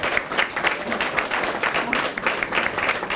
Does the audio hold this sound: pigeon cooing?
no